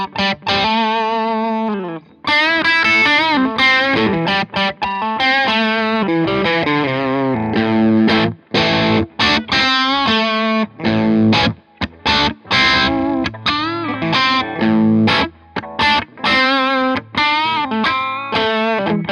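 An electric guitar plays a lead line with distortion, captured by a Shure SM57 and a Nexadyne 5 microphone. Sustained bent notes and quick phrases ring out loud and close, with no talking.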